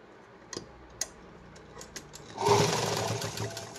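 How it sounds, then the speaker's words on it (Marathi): A sewing machine runs a quick burst of stitching along the side seam of a blouse, starting after a few faint clicks and ticks and then humming steadily and fairly close for over a second, with no talking. "मी थोडंसं अगोदर बाजूला एक शिलाई मारून घेते बाजूनी"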